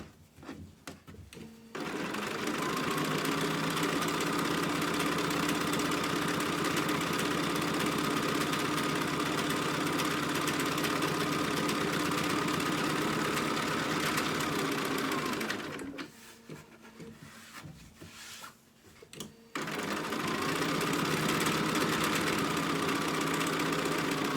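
A sewing machine stitching fabric for a mouse-dress dog outfit runs in a long, steady mechanical whir close by, stopping briefly near the end for a few seconds of handling noise before starting up again.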